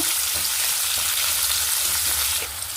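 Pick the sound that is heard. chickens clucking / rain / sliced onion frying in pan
sliced onion frying in pan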